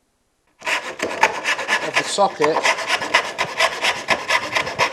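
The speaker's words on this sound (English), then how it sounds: "pick up the dovetail saw to cut the shoulders" A dovetail saw cuts the shoulders of a hand-made wooden dovetail joint, with rapid, even back-and-forth rasping strokes up close; a voice speaks a few words at the start.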